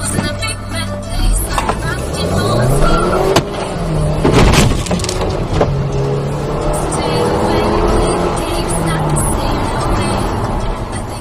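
A car engine roars and accelerates hard amid busy road noise on a main road, with other vehicles and rising engine pitch sweeping through.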